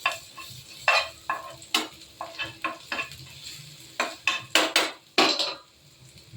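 Chopped ginger hits hot oil for an egg curry, giving sharp bursts of sizzling and spluttering mixed with stirring scrapes of a spoon in the pan, close and moderately loud.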